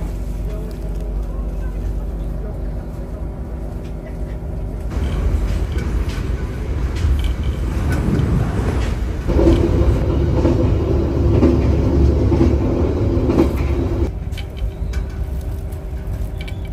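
A night passenger train departing Bojonegoro, Indonesia, heard onboard, rumbles steadily with a low, continuous roar and faint rhythmic clatter, growing a bit louder midway; occasional voices are faintly audible beneath.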